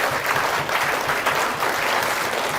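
An audience applauds for Neil Hanvey at a Robert Burns celebration, a steady, dense wash of clapping that stays loud and even throughout, with no voices on top.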